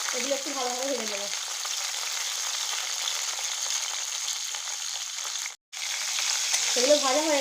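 Salted, turmeric-rubbed crabs fry in mustard oil in a kadai, giving a continuous close sizzle and spatter with one brief dropout near the end and faint voice-like tones at the edges.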